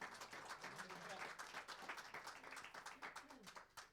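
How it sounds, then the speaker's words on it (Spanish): Church congregation clapping, a very faint, uneven patter of many hands at a distance, with voices faintly underneath. "Un aplauso al Señor"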